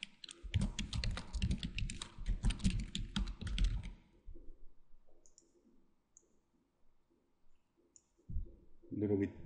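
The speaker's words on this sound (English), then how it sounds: "I'm gonna type something in here." Rapid clicking keystrokes on a computer keyboard while working in After Effects, a dense close burst of typing followed by sparse quieter clicks and a brief final flurry.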